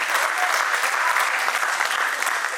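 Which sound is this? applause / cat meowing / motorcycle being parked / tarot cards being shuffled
applause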